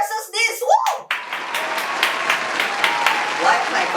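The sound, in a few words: hand clapping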